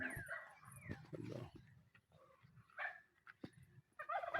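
A small dog whimpers and gives short yips and barks in a scattered run, fairly faint and close, with people talking around it.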